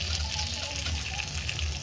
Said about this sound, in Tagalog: nilagyan ko na lang siya ng lukewarm water